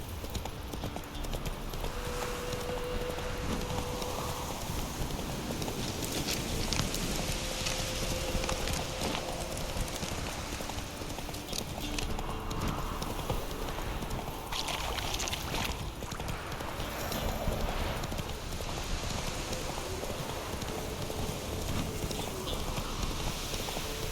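Roach, Geralt's horse in The Witcher 3, gallops with steady, continuous hoofbeat clip-clop up close, over ambient wind and environmental noise, with no talking.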